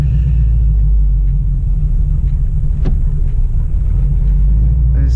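A 1985 Chevrolet Monte Carlo engine idles cold with a heavy, close low rumble that sags briefly as if about to stall, then keeps running steadily.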